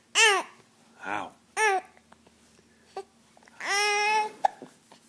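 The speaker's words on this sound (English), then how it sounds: "I know those hiccups." Baby babbling and hiccuping indoors, with several short voiced hiccup-like bursts and cooing sounds spaced across the moment, close and fairly loud, ending in a longer drawn-out vocal sound.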